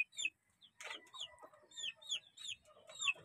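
Pet chickens and bantams cluck in short, repeated bursts, with one louder squawk partway through, close by and without talk.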